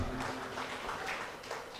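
Audience at a land office launch event applauding, a short burst of dense, steady clapping from a room full of people.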